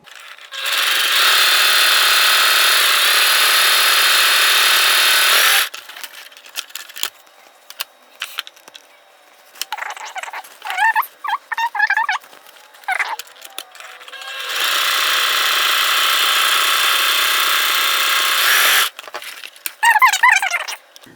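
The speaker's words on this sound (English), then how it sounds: "I went ahead and finished sewing all 12 of my darts" A sewing machine stitches fabric darts in two long, loud, even bursts of high whirring, and the stretch between them is filled with fabric handling, scrapes and clicks.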